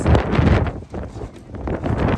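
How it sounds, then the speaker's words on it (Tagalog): Strong wind buffeting the microphone in loud, gusty bursts by a cruise ship, rising and falling over a couple of seconds with no talk. "Dinig naman ninyo guys kung gaano kalakas ang hangin."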